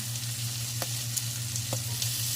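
Garlic sizzles steadily in a hot pan while a salmon steak cooks, giving a close, continuous frying crackle with a few small pops and no talking.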